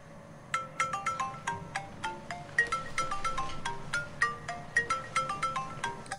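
A mobile phone inside a bag rings with a quick, bright melodic ringtone, sharp repeated notes pulsing in a steady rhythm, soft and slightly muffled, with no talking.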